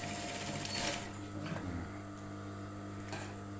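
A sewing machine stitches a welt pocket on a women's blazer, giving a steady close mechanical whir with a constant tonal hum, slightly louder near the start and then running evenly.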